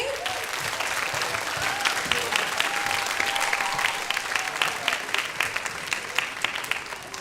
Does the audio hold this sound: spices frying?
no